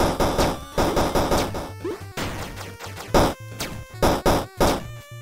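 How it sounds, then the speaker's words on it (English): Blocks shattering in Dracunite, a mini metroidvania action platformer, as a loud run of crashing, smashing bursts layered over busy chiptune-style game music and effects, with no voices. "Oh, I gotta shatter that one."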